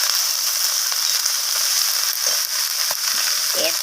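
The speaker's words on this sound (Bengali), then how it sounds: "ফুলকপি ডাঁটি আর মূলোটাকে আমি পেঁয়াজের সাথে এইভাবে নাড়াচাড়া করে একটু" Cauliflower stems and radish being stirred with onion in a pan, giving a steady, loud, close sizzle throughout with a few scraping stir sounds near the end.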